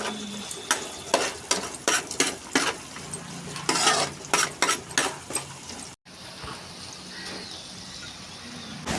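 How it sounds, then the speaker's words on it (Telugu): Ajwain and chopped dried red chillies being stir-fried in a pan, a spatula scraping and tossing in quick, repeated strokes over a soft sizzle, close and fairly loud, with a brief pause midway. "ఇప్పుడు ఇందులో కట్ చేసి పెట్టుకునే ఎండుమిర్చిని కూడా యాడ్ చేసుకుని మొత్తం బాగా కలుపుకుని"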